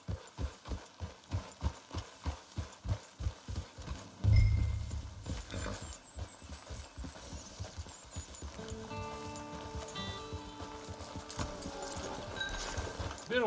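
Video game horse hooves clip-clop in a steady, close rhythm for about four seconds, then a heavier thud and a snort-like sound, followed by soft ambient music and quieter movement.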